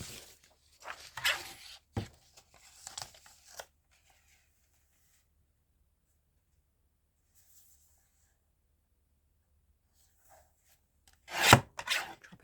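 A paper A5 envelope is trimmed by hand with a few scratchy rubbing and cutting bursts. Long quiet gaps separate them before a louder, close rasping burst near the end.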